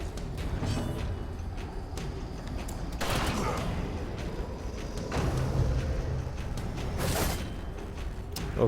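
A grapeshot attack in Darkest Dungeon lands as a few sharp scattered blasts and mechanical clatter, spaced over a dark, droning game ambience.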